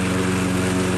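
A Toro Recycler lawn mower engine, freshly fitted with a new carburetor and tuned up, runs close and loud in a steady, unbroken drone.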